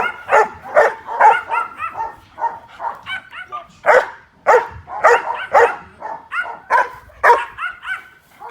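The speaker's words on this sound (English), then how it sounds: "train your dog to do the next step, which is barking on command" A dog barks on command repeatedly in short, loud bursts, some sharp and yippy, with brief pauses between volleys.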